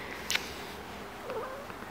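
A quiet cat makes a brief, soft vocalization against a faint background hum, with a short higher sound just before it.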